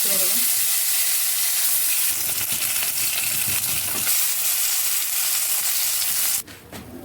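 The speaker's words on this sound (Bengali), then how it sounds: "তেলটা গরম হয়ে গেছে, আমার মাছটা ছেড়ে দেবো।" Tilapia rubbed with salt and turmeric sizzles in hot oil in a home kitchen, producing a loud, continuous crackling hiss with bursts of spatter that holds steadily for several seconds before dropping off abruptly near the end.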